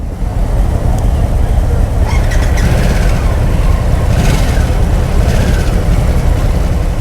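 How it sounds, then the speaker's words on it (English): A 2022 Harley-Davidson Nightster 975 motorcycle on a test ride, its engine giving a loud, steady, continuous rumble close up with road and wind noise. "the bike's kind of got an interesting sound to it. Doesn't sound like a traditional Harley. Doesn't sound bad though. It's got a little bit of a rumble to it."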